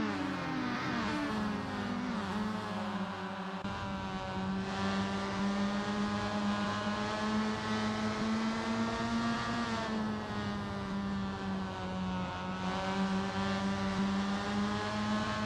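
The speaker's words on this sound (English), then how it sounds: "Braking nice and early, slotting in to the slipstream of Luis Rodriguez." Formula Mazda race cars in a sim racing game, a continuous loud high-revving engine drone with shifting pitch as the cars accelerate and brake, several engines overlapping closely with no voices.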